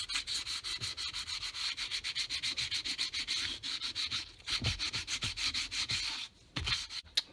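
600 grit sandpaper rubbing by hand across the flat metal mating surface of a throttle body from a 2005–2014 Ford Mustang, giving a steady rhythm of quick, close, raspy back-and-forth strokes with a couple of brief pauses near the end.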